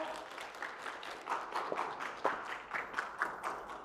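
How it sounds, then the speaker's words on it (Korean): Audience applause at a home-care medical center's results-sharing event, moderate clapping from a seated crowd greeting the next presenter, steady with a few louder bursts, heard somewhat distant. "큰 박수로 맞이해 주세요."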